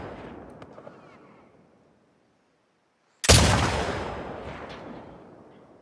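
A single loud gunshot from The Last of Us Part II, fired at a sign, cracks out suddenly after a quiet pause and rings into a long decaying echo; faint voices murmur before the shot.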